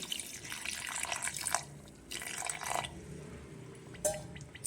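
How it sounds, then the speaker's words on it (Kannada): Water splashes into a vessel of jaggery in a home kitchen, set to melt it for a horse gram curry recipe, coming in two or three close, steady bursts of pouring with a brief drip near the end and no talk. "ಇದಕ್ಕೆ ನೀರು ಹಾಕ್ತೀನಿ ಇವಾಗ ಕರಗಲಿ"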